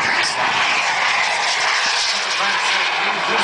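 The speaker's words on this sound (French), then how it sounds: "Au passage, notez la réactivité de ces moteurs." Small jet turbine engines at the La Ferté-Alais airshow roar and rev loudly and continuously, a broad high-pitched whine and rush at close range, with a faint voice underneath.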